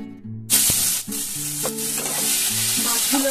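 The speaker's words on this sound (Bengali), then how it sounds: "কিন্তু আমাদের একটুখানি তেলে একটু উল্টা পাল্টা করে নিই" Hilsa fish frying in a little oil in a nonstick pan, with a bright, steady sizzle and a few sharp utensil scrapes and clinks as the pieces are turned, close and without talk.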